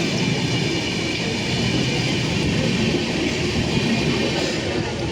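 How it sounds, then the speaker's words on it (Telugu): Howrah–Chennai mail train rushing past at close range, a loud continuous rumble and rattle of wheels and wagons that holds steady throughout, no talk. "Howrah Chennai mine train"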